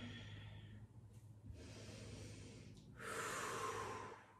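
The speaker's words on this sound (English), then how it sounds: "Slowly back that tension off and breathe. Whew. Take a couple breaths here." Slow, deep breathing after a hip stretch exercise: a close, faint inhale followed by a louder, airy exhale, with no talking.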